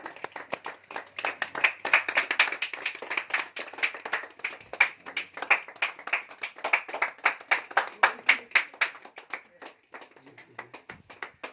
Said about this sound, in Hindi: तालियां बजती रहनी चाहिए दोस्तों।